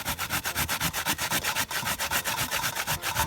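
Coconut flesh rubbed by hand against a metal grater, a steady rasping scrape repeating in quick back-and-forth strokes, close and fairly loud with no talking.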